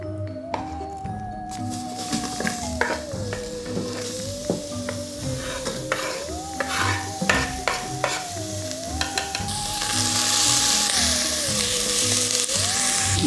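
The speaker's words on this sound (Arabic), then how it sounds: "تحط زيت زيتونة، ترمي البصل نتاعك" Onions tossed into hot olive oil in a pan, a loud close sizzle with frequent clattering stirs and scrapes, the hiss swelling louder toward the end, while a melody plays underneath.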